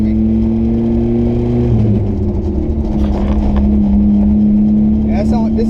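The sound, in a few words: loud vehicle engine running in second gear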